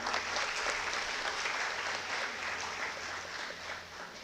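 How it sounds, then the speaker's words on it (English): A hall audience gives a warm round of applause to the 1995 batch at an alumni jubilee meet, steady dense clapping that fades slightly toward the end. "let's give them a huge round of applause"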